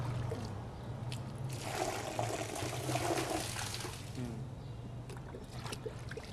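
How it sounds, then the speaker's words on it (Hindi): Water poured into a drain, flowing away with a steady gushing, trickling rush that swells in the middle and tapers off, close by. "अब जो भी पानी डालेंगे वो सब बाहर जा, देख लीजिए सब बाहर जा रहा है"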